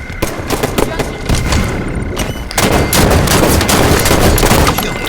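Dense, loud bursts of gunfire in a first-person shooter game, with overlapping shots and explosions running continuously throughout, and game announcer voices mixed in.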